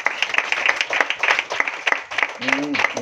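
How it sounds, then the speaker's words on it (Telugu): Church audience applauding during a Telugu Christian sermon, a dense, steady patter of many hands clapping through the clip, with a brief voice rising near the end. "చప్పట్లు గట్టిగా."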